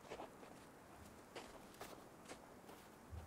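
Player-character footsteps in the survival game Sons of the Forest, a steady series of soft crunching steps at an even walking pace, fairly faint and close, with no talking over them.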